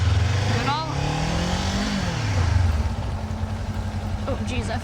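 A motorcycle engine runs steadily beneath the rider, its low drone climbing in pitch through a short rev and then settling back toward idle as the clutch is worked.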